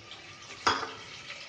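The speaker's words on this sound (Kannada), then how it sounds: "ಸ್ವಲ್ಪ ಫ್ರೈ ಮಾಡಿಕೊಂಡು ಇದಕ್ಕೆ ನಾನು ಬೀನ್ಸ್ನ ಆ್ಯಡ್ ಮಾಡ್ತಾಯಿದ್ದೀನಿ." Carrots and beans stir-fry in a pan for vegetable pulao: a low, steady sizzle broken by one quick scrape of a spoon or spatula, close and fairly quiet, with no voices.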